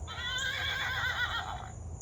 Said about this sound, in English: Does Horse say beep like Little Blue? No, Horse says,